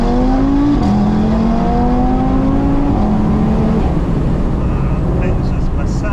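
Audi TT RS with an APR Stage 2 tune and a five-cylinder engine, accelerating hard from inside the car in second gear. The engine drones loudly and rises steadily in pitch, with a quick drop at a gear change.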